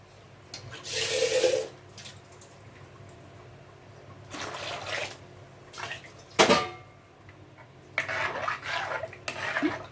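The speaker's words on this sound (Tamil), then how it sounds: "இப்போ கொஞ்சம் நம்ம தண்ணி சேர்த்துக்கலாம்." Water from a rinsed mixer jar splashes into a thick Kerala-style fish curry in a clay pot, arriving in a few short gushing bursts amid clinks and scrapes of utensils in a quiet kitchen.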